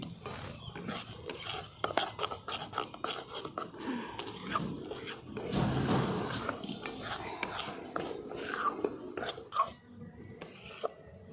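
Gram flour and semolina stirred dry in a kadai, repeated scraping and rasping of a metal spoon against the pan in an irregular rhythm, close and moderately quiet.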